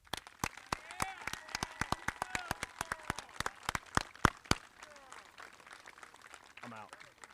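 Applause for student athletes at a high school senior athletic awards ceremony: sparse, sharp individual claps over a low crowd murmur, thinning out toward the end, with voices faintly audible underneath.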